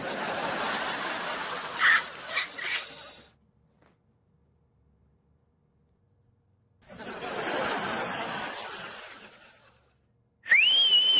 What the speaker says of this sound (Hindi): आप सीटी क्यों मार रहे हैं?